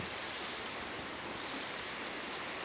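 Floodwater rushes over submerged fields in a dense, continuous roar, steady and forceful, with no voices.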